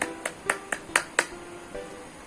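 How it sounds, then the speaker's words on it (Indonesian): A primary school class gives a short burst of rhythmic hand claps, about seven sharp beats in quick succession, then a fainter pair of claps as it trails off. "Tepuk tangan untuk kita semua."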